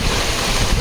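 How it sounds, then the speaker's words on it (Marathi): Sea waves at Kasheli beach on the Konkan coast, with rain approaching: a loud, close, continuous roar of surf mixed with heavy wind buffeting the microphone, and no voices. "लाटा बिटा पण बघा"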